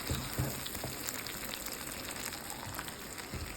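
Taro flowers frying in hilsa fish oil give a steady, close sizzle and crackle throughout, with a few soft scraping stirs of the pan and no voices.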